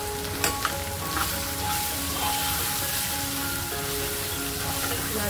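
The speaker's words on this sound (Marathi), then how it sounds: "लाल तिखट आणि मसाला भाजून घ्यायचा" Red chili powder and Everest sambar masala sizzle steadily in hot oil as they roast, a close, continuous frying hiss with a few light clinks of stirring near the start.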